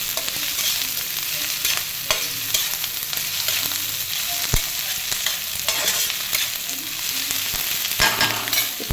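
Onions frying in a pan for gongura curry, a steady loud hiss of sizzling oil broken by scraping and stirring of a spoon, close up with no talk.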